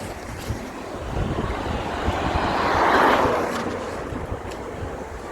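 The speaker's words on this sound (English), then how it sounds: "it is very windy, so I'll try and talk as clearly as I can" Strong wind blows across an outdoor microphone, a continuous roaring rumble that swells and peaks near the middle before easing slightly.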